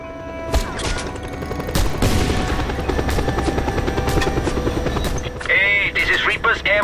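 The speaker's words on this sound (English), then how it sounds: "Grapple onto the chopper, comrade, and he'll take you to the witness convoy." Helicopter in Just Cause 2 with a loud, continuous rotor roar close by, broken by sharp bursts that sound like gunfire and impacts, and a voice speaking briefly near the end.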